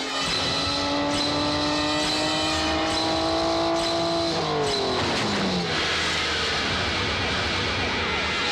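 Car speeding away in a movie chase, a loud engine roar rising in pitch then dropping as it passes, with sirens blended in and continuous road noise after.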